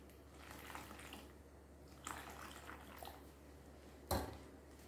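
A pot of already boiling water is picked up and handled in a kitchen while making tapioca-starch popcorn snacks, giving faint metallic clinks and a louder clatter near the end over a low steady hum.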